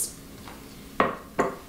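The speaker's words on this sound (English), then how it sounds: "I'm going to use some oven-proof soup bowls." Oven-proof soup bowls being set out for individual pot pies, giving two sharp ceramic clinks close together with a faint earlier knock, nearby and otherwise quiet.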